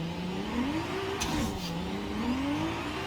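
A Datsun 240Z engine in Forza Horizon 5 revs up and down in smooth, rising and falling sweeps, heard from inside the car at a moderate level with no voices.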